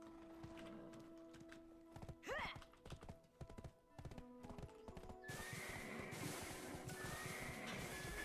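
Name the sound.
horse hooves clip-clop in Black Desert video game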